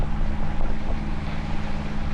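Steady low drone of a sailboat's auxiliary engine pushing the boat through tidal current near Deer Harbor and Reid Harbor in the San Juan Islands, continuous and close, with wind and water hiss over it.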